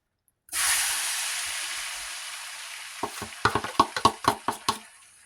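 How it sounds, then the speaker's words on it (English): A sudden loud sizzle erupts as breakfast food hits a hot grill pan, hissing steadily, then a series of sharp scraping taps rings out near the end. "Listen for the sizzle."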